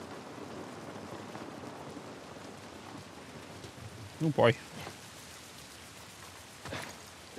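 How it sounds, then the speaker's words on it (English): Steady rain patters throughout in the video game The Last of Us Remastered on PS5 as a person briefly exclaims partway through, with ambient noise behind. "This rain ain't gonna do us any good."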